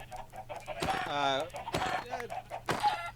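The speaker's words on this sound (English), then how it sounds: "Wait, I'm killing chickens." Chickens in Minecraft cluck and squawk in short bursts as they are struck and killed, with players chatting over the game sounds.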